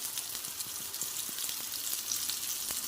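Hariyali kebabs shallow-fry in generous oil on a nonstick chapati or dosa pan, giving a steady, close hiss and sizzle with faint crackles throughout and no voices.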